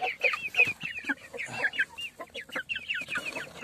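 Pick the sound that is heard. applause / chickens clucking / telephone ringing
chickens clucking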